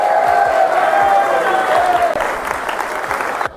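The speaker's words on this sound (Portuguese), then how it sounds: "uma salva de palmas para as mulheres." An audience claps at a discussion event, a full burst of applause with some cheering that thins out toward the end.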